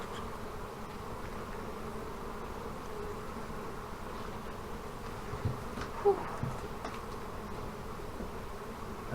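A swarm of honey bees in an old hive gives off a steady, low, faint buzzing drone that holds through the whole stretch, with a few slightly louder moments and no voices.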